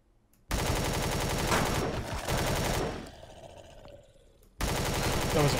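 Shotgun fire in the space survival game Empyrion Galactic Survival: loud, dense bursts of rapid gunfire, a lull of softer scattered noise in the middle, then heavy firing resumes.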